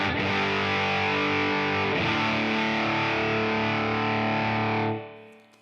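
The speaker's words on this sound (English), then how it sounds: "the OCD is more low mids, so it's a lot more distortion-y. Sounds like this on its own." An electric guitar runs through an OCD overdrive pedal set for a thick, low-mid-heavy distortion. A loud, sustained distorted chord rings out, is struck again about a third of the way in, then cuts off abruptly near the end.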